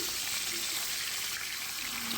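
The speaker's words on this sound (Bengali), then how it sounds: "মাছগুলোতে ভালো করে হলুদ লবণ মাখিয়ে মাছগুলো ভাজার জন্য ছেড়ে দিয়েছি" Hilsa fish pieces coated in turmeric and salt fry in hot mustard oil, giving a steady, fairly loud hiss and sizzle that holds without a break for about two seconds, with no talking.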